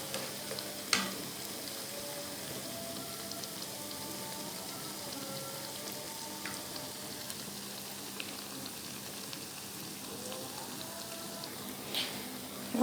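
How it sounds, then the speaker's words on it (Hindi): Besan dahi vadas frying in oil give a faint, even bubbling sizzle like light rain, with a few sharp clicks and pops, quiet and continuous throughout. "तो ये अच्छे से अब ये फ्राई हो जाएंगे।"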